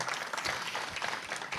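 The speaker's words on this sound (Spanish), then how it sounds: "Un aplauso al Señor, amén." Congregation applauding in a church service, a steady dense patter of many hands clapping throughout, moderately loud and continuous.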